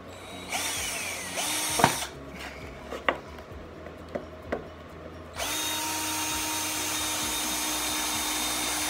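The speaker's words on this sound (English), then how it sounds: "I got my piece of board here so that I'm not drilling through my ground." A power drill whirs briefly into PVC resting on a board, then a few sharp knocks and clatters, before the drill runs steadily again, close and loud.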